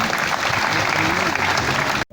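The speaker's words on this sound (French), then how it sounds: "Applaudissons pour cet événement." An assembled crowd claps loudly and steadily at an official state exam opening ceremony, a thick wash of hands for about two seconds before cutting off abruptly.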